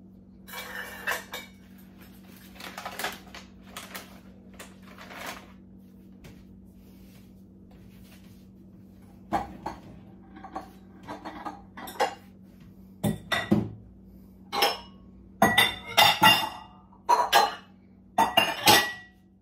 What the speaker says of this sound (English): In a large bowl, mash the ripened banana with a fork.